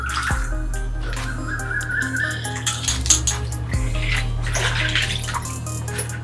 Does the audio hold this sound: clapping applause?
no